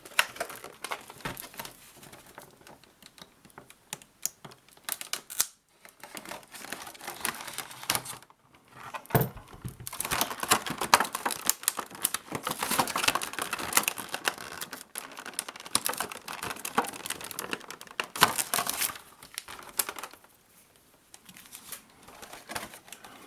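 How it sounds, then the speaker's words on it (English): A pistol's stiff plastic packaging is worked open by hand, with a long run of irregular crinkling, tearing and clicking bursts at close range, broken by a few brief pauses. "Some of these plastic things are hard to get into."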